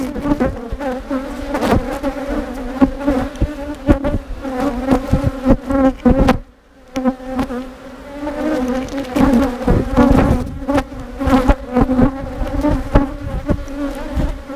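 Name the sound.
honey bees buzzing at open hive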